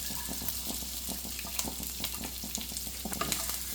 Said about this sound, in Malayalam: എണ്ണ ചൂടായിട്ട് വരുമ്പോൾ ഇതിലേക്ക് നമുക്ക് വെണ്ടക്കായ മുറിച്ച് വെച്ച് വെണ്ടക്കായ ഇട്ട് കൊടുക്കാം